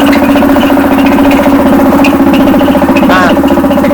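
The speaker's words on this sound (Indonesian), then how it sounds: "Sekarang kita coba untuk menyalakan mesin. Mesin akan menyala dan memompa kepada tabung." The petrol engine of an air compressor pump runs loud and steady, a dense mechanical chugging with a constant pulsing rhythm and no voices.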